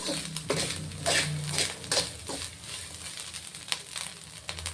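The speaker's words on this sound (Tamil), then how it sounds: "இந்த பொரியல் செய்யும்போது தேங்காயும் சேர்த்து நல்லா எண்ணெயில் வதக்கி விட்டுறலாங்க" Bitter gourd and grated coconut fry in hot oil in a pan for a Tamil-style poriyal, giving a steady close sizzle with scattered clinks and scrapes of a utensil stirring against the pan.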